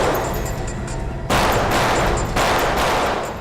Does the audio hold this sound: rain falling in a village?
no